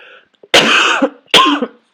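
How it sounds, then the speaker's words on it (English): Two harsh, loud coughs close to the mic, each a strained burst followed by a wheezy catch of breath, after a brief murmur. "I'm so sorry. I have a coughing fit."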